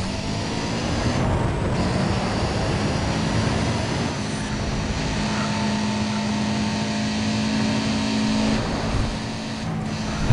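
A racing car engine in Need for Speed: ProStreet roars steadily and loudly throughout, with the harsh, broad hum of the motor accelerating and no voices over it.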